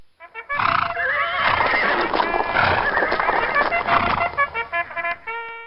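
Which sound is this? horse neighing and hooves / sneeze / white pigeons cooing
horse neighing and hooves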